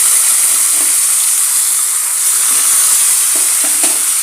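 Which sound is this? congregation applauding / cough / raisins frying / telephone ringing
raisins frying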